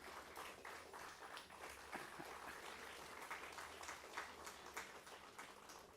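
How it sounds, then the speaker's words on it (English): Audience applause at the valedictory session of a sustainable waste management forum, honouring a Silver Award-winning company; dense, steady clapping from a large crowd continues at an even level throughout with no voices. "A big applause for this particular industry"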